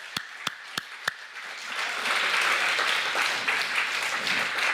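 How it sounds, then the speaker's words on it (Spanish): A church congregation starts clapping, with a few sharp single claps first and then a sustained burst of many hands together, fairly distant in a reverberant room. "Dele palmas al Señor"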